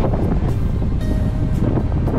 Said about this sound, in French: On a là pour l'instant 21-22 nœuds de vent.